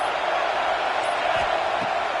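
A football stadium crowd at an SEC game roars in a steady, dense wash of cheering, loud and continuous throughout.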